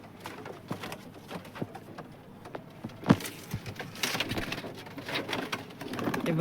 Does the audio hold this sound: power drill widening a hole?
no